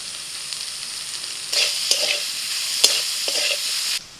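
Capsicum, grated ginger and carrot fry in a pan, giving a steady close sizzle that swells louder midway as the vegetables are stirred, with a few sharp scraping clicks and no talking.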